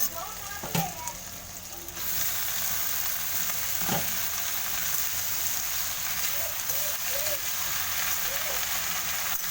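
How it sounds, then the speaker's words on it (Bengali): Potatoes fry in a pan, a steady close sizzle of hot oil running throughout, with a couple of brief knocks of a utensil early on and faint stirring. "আলুগুলোকে একটু ভালো করে লাল লাল করে ভেজে নেব সময় ধরে।"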